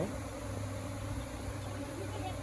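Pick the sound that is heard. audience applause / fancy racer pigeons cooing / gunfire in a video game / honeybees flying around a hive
honeybees flying around a hive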